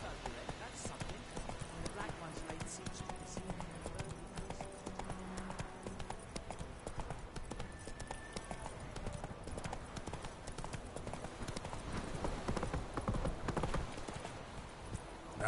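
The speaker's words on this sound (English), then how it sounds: "Whoa there, Roach." A horse gallops in The Witcher 3: Wild Hunt, with rapid, continuous hoof clip-clops and an occasional snort or whinny under a voice calling to the horse.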